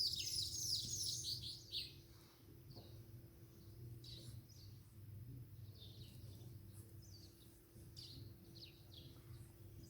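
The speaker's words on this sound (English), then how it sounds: "You hear that one? That's a funny bird." Outdoors, a bird gives repeated high, chirping calls that come and go in short bursts, fairly faint over a steady low hum.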